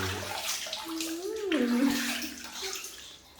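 Water sloshes and splashes softly close by while a small child's hair is washed in a bath, and a short high-pitched child vocal sound rises over it.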